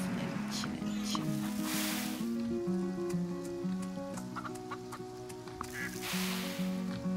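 Ducks in the Farm Together video game, repeated nasal quacks and honks in an overlapping rhythmic stream over several seconds, fairly close, with game sounds underneath.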